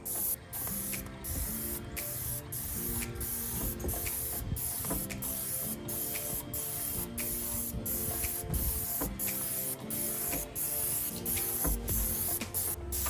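Paint sprayer spraying paint onto vinyl siding along the bottom trim of a house, a steady close hiss with rhythmic pulsing bursts as the gun passes, and a faint mechanical ticking of the pump running underneath throughout.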